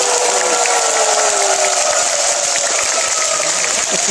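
Steady, dense applause from a large studio audience at a televised 7080-themed music show taping, sustained at a loud, even level throughout.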